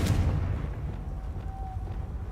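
Confringo fire spell from Hogwarts Legacy goes off as a heavy, rumbling boom right at the start, then decays into a low, steady roar with no voices.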